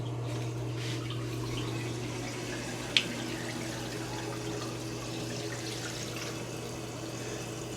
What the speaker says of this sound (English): Water running in the pipe, filling up.